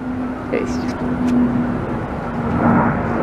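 A broad engine roar builds and swells as an aircraft passes overhead along the Blackpool promenade, with a steady hum beneath and some outdoor background noise.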